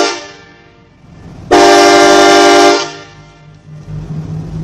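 A loud, sustained K5LA train horn blast from a road vehicle, with rich harmonic tones, sounds for over a second, starting abruptly and cutting off, between quieter vehicle and road noise.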